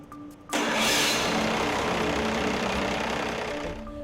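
A heavy duty truck engine on a test stand with pressurized fuel and water bursts into a loud, steady run after a short quiet lead-in, holding an even broadband roar close by.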